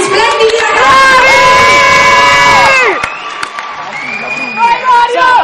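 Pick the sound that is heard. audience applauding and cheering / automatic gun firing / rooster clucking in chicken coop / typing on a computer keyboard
audience applauding and cheering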